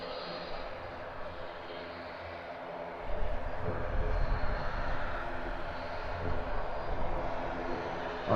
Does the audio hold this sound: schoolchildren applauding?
no